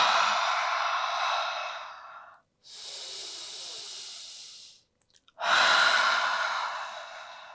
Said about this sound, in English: Let's take 3 cleansing breaths again here. In through the nose, out through the mouth.